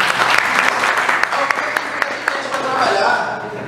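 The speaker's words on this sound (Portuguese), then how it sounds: "salve de palmas para ele" Audience applause after a public-speaking participant is introduced, a steady wash of many hands clapping for about four seconds, fairly loud and close, with voices mixed faintly underneath.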